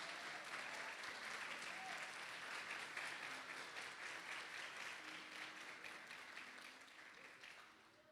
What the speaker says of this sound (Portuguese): eu queria pedir uma salva de palmas pela vida do pastor Gilson e pela